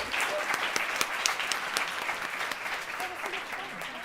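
An audience at a Cleveland women-in-leadership panel gives a brief, moderately quiet round of clapping, steady throughout with a few sharper individual claps standing out.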